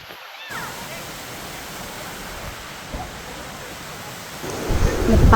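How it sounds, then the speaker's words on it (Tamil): A waterfall in Kodaikanal rushes as a steady broadband hiss of falling water that swells louder toward the end, with a voice speaking over it. "இந்த அருவியோட சவுண்டு"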